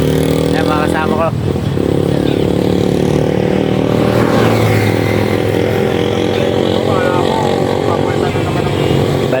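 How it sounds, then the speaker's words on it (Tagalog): A group of ten motorbikes rides together on a morning road trip toward Alaminos, Pangasinan, their engines droning loudly and continuously up close with rising and falling revs. "Bali 10 motor kami."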